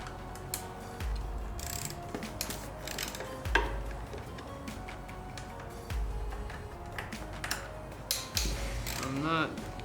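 Torx screws on a 2013 Yamaha Super Tenere under-seat cover being turned out with a T30 bit, heard as close mechanical clicks and ratcheting ticks over low handling thumps, with no talking.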